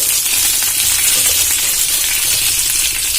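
Pomfret fish fry in hot oil, giving a dense, even hiss of sizzling and spattering that stays loud and close without a break.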